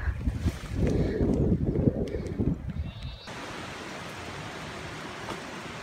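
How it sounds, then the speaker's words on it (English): Gusty wind roars and buffets the microphone, heavy at first and then settling into a steady broadband rush. "Quite windy."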